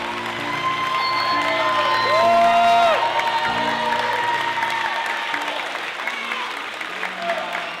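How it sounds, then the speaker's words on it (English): School audience applauding and cheering for students at a book project celebration, a dense sustained round of clapping with whoops and crowd voices, loud and continuous before easing toward the end. "These talented students need a collective round of applause."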